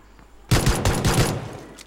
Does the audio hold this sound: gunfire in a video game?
yes